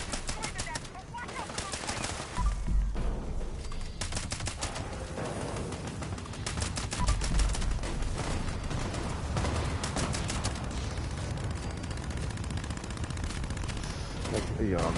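Rapid gunfire from targeting and shooting a string of enemies in Fallout 76, bursts of dense repeated shots running steadily throughout with a voice talking over them.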